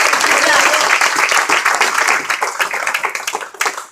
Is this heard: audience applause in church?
yes